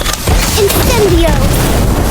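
An Incendio fire spell cast in Harry Potter: Magic Awakened: a sudden loud burst that swells into a sustained fiery rush, with thin gliding tones sweeping through it.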